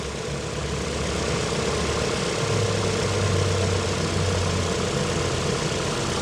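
A 2012 Ford Fusion 2.5 engine idles steadily during a coolant bleed, a constant low hum with a slight shift in pitch partway through, with no talk.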